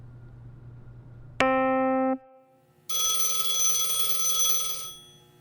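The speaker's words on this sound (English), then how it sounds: "Phone's ringing again." A telephone rings twice in electronic tones, a short sharp trill followed after a pause by a longer, brighter ring, loud and close over a low room hum.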